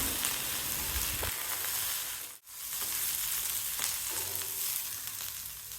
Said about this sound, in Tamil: அடிக்கடி கிளறி விட்டு வதக்கணும்.